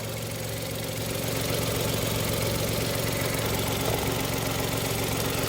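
A Kia Ray light car's engine idles steadily, a continuous mid-low hum with faint rhythmic knocking texture, close and even throughout with no talking.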